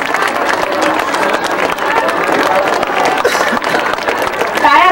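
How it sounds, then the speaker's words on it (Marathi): An audience at an honouring ceremony for Dr. Raghunath Mashelkar in Amravati claps in a dense, sustained wash of applause, with a voice speaking over it. "टाळ्या चालूच राहिल्या तर चांगलं।"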